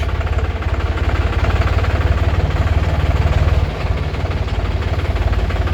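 Tractor engines idling at a vehicle inspection area: a loud, close, continuous diesel rumble with a fast low throb that runs without a break for nearly six seconds.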